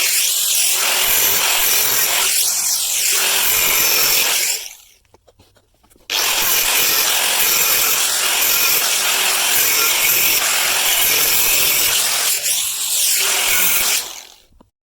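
A saw cuts through a metal bar for a wind turbine tower guide wire bracket, steady rasping strokes in two long runs broken by a short pause, loud and close with no talk.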